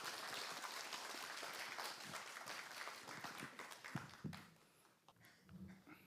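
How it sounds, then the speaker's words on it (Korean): Congregation at a Catholic Mass applauding, a faint, distant, continuous patter of clapping that thins toward the end, with some scattered nearby knocks. "감사 박수 부탁드립니다"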